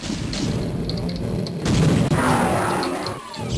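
A grenade blast in Doom 2, played on the Hell Revealed 2 map An Eye for an Eye with a cyberdemon nearby, booms loud and close, with a heavy low rumble that swells midway and lingers amid game noise.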